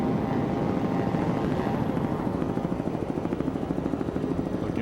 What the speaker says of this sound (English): out of our Provine helicopter, pilot Coit Bailey doing a great job